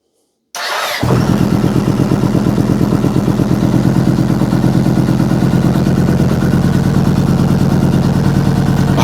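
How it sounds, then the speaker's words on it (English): A Yamaha MT-01 motorcycle engine starts with a brief crank after a moment of silence, then settles into a loud, steady, close-up lumpy idle that runs continuously to the end. "So when we turn the bike on, you see the Thunderbox is flashing green."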